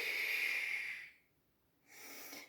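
Close, breathy exhales during a pilates breathing exercise: a long soft hiss of air, a brief pause, then another gentle outbreath.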